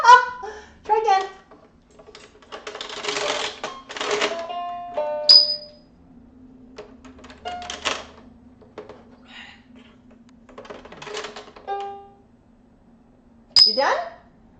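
A pet presses a keyboard's keys, producing scattered single electronic notes and short clusters with long pauses between them, along with squawky animal calls and brief voice sounds.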